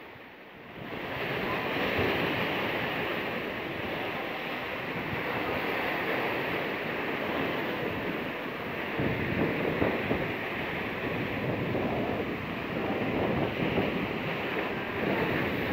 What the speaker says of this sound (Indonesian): Rumah-rumah belakangnya tuh dihantam ombak semua tuh.